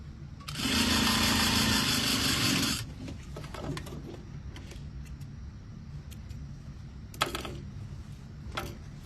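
A sewing machine stitches a welt pocket in a loud, steady run of about two seconds near the start, then stops, leaving faint handling clicks and rustles.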